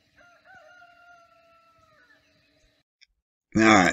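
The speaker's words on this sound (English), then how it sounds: "you could hear my little rooster, then you could hear another rooster off toward the east of us here" A small rooster crows nearby at civil twilight, a brief loud burst near the end after quieter sustained tones, with a faint blip from another rooster farther off to the east.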